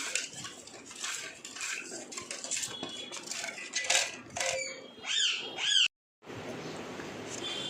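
A spoon stirs and clinks against a glass or bowl while homemade curd lassi is mixed with fried sweets, giving busy close-up scraping and tinkling, a brief silent gap, then more clatter.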